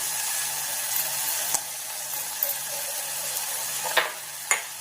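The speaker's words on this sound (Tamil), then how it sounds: "இதில் நல்லா ப்ரௌனாக ஆகிற வரைக்கும் நம்ம இதை வதக்கிப்போம்" Ginger and garlic frying in hot oil for a green chicken gravy, giving a steady broad sizzle with a few sharp stirring clicks near the end, close and without talk.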